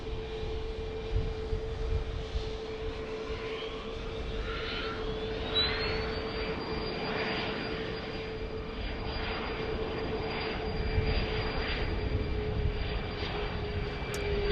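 An airliner on flight 1853 to Austin rolls through at Dallas Love Field, its steady engine roar filling the scene with a rising whine and continuous turbine hum, loud and close throughout.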